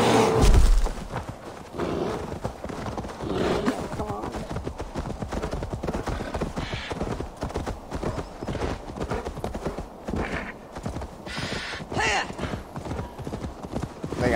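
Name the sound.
horse hooves in video game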